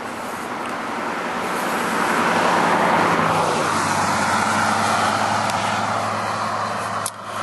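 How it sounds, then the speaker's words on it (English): A road car drives past, its engine and tyre roar swelling to a peak midway and slowly fading, loud and close with a steady hum, no voices heard. "Now, we've got a car coming by"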